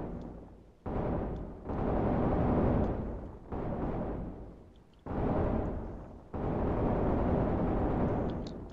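Muffled underwater gunfire bursts in the video game ARK: Survival Evolved (Extinction), several long rumbling blasts separated by brief pauses.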